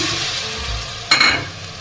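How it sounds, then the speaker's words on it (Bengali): Spices are sautéed for chicken curry in a pan, making a close, soft frying sizzle with stirring scrapes. A brighter burst of sizzling comes near the end of the two seconds. "মশলা থেকে কাঁচা গন্ধটা যতক্ষণ না যায় ততক্ষণ আমি কষিয়ে নেবো"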